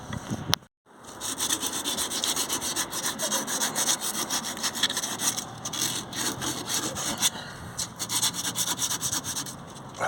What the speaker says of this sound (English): I'm just trying to get some of the surface rust off it.